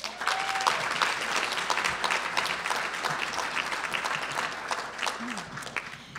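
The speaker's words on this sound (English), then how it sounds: "Please join me in one more round of applause for all of our retiring employees" Sustained applause from a banquet audience at a school district retirement dinner honoring a retiring school bus driver, steady and dense throughout with a faint tone early on.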